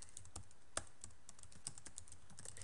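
A computer keyboard clicks as a website address is typed in, a quiet, irregular run of light keystrokes with a few sharper taps, close and alone with no talk.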